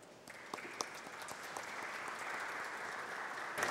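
At a public hearing, an audience applauds journalists and radio professionals, beginning with a few scattered sharp claps before swelling into a steady, moderate round that holds evenly throughout and brightens slightly at the very end.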